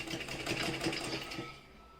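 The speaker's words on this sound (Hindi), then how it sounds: "ये मैंने बिल्कुल सीधी सिलाई लगाई है और इसको यहाँ आप पक्का कर दीजिए।" Sewing machine running a straight stitching line along a shirt placket, a steady, fairly quiet mechanical whir that keeps going for about two seconds and then eases off, no talking.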